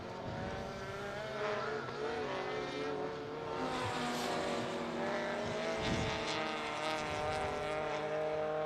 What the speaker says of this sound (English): Tim Molesworth in the Celica going through turn 1, and he's well clear of